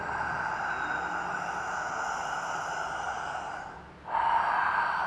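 Yoga ujjayi breathing drawn in through a constricted throat gives a steady, close, hissing rush that runs for several seconds, dips briefly near the end, and then resumes more strongly.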